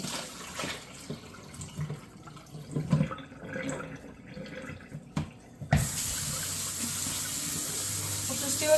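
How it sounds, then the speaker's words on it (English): Tap water runs into a sink while strawberries are rinsed in a colander, starting as faint irregular splashing and trickling, then turning into a steady, fuller stream of running water. "we're just gonna strain the strawberries, and we're gonna give them a really good rinse."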